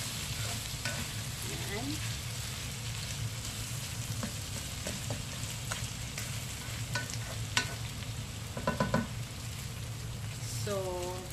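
Garlic and shallots fry in a pan with a steady, close sizzle through the whole stretch, a few utensil taps on top, and someone speaks briefly over the cooking.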